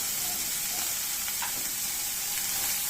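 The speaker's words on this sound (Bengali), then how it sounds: "দিয়ে দিলাম রসুন, আদা, এগুলো আমি ভেজে নিচ্ছি" Garlic, ginger and onion frying in a pan for a red prawn curry, giving a steady, close sizzle with faint stirring scrapes and no talk.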